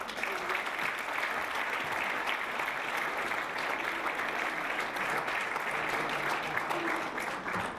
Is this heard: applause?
yes